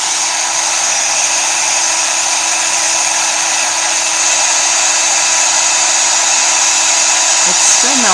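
An electric heat tool melts glue adhesive, blowing with a loud, unbroken whirring roar at a steady pitch throughout.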